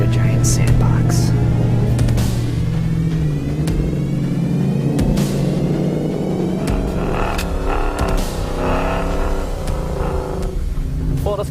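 A Roush F-150 pickup truck rumbles and revs as it drives off-road across sand dunes, its engine throbbing loudly throughout while people talk over it.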